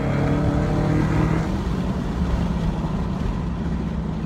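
Dodge Charger Hellcat on a rally drive, its engine roaring loudly and steadily under hard acceleration, heard from inside the car as a deep continuous drone.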